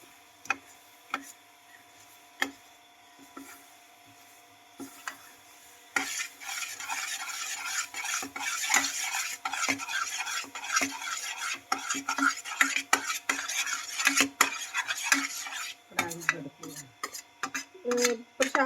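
A spoon stirs a sugar mixture in a kadhai, giving repeated scraping and clinking strokes, sparse at first, then a dense, continuous stirring wash with faint sizzle, close and alone without talk.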